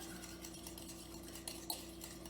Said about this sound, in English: you want to use a fork or a whisk or something that will help you break up the egg yolk